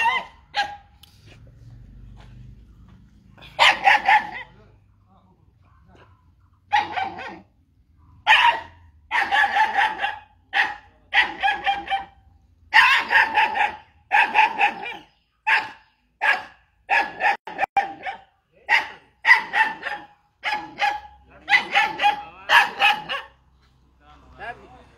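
Dogs rescued by police in Dergaon bark loudly and close by in repeated sharp bursts, sometimes in quick clusters, with short quiet gaps between them.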